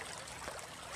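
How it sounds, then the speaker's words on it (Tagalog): Irrigation water rushing strongly into a rice paddy on a farm, a steady, dense flowing and trickling wash that fills the whole moment with no talk. "Malakas pa rin yung tubig oh"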